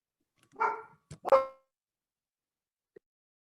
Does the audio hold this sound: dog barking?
yes